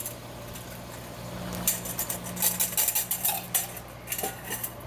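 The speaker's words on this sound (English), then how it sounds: "Whisk this up and get my prepared sauce in there." A utensil whisks prepared sauce in a dish, making a run of quick, close metallic clinks and scrapes that grow busier after the first second and a half.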